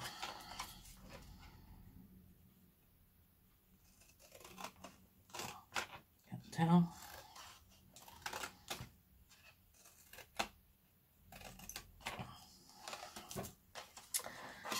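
Scissors snip through cardboard while a card-table favour box is cut out, giving a run of short, crisp cuts and crunches with quiet pauses between them, heard up close with no talking.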